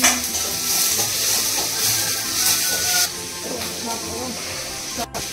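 Noodles frying in a pan in a village kitchen, a steady hiss and sizzle with stirring scrapes, loud and close, ending in a sharp clatter, with a voice talking over it.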